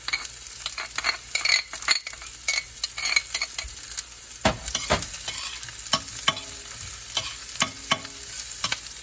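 Garlic sautéed and stirred in a pan while cooking banana blossom in coconut milk, a bright sizzle with frequent scraping and tapping of the spatula against the pan, close and continuous, no talk.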